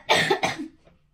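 Two quick coughs from a person nearby with a cold, close and fairly loud, followed by a brief soft throat sound and quiet room tone.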